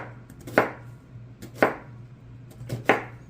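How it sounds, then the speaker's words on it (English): A knife slices an onion north to south on a cutting board, three sharp, evenly spaced chops with faint scraping between them, close up over a low background hum. "if you cut an onion north to south, it stays together a lot better than it would if you were to cut it this way first"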